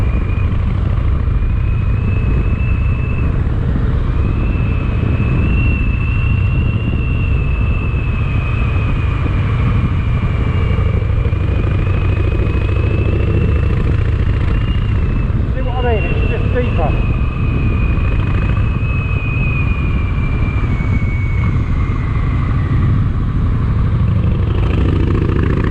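Harley-Davidson Fat Boy motorcycle fitted with quiet exhaust baffles, its deep engine rumble droning steadily close by throughout, with wind noise and a faint high whine over it.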